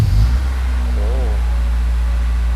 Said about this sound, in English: That is a nice deep burble.